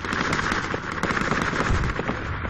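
Dense, rapid crackling gunfire in a large multiplayer Project Reality match, a continuous busy volley of sharp pops at fairly even loudness throughout.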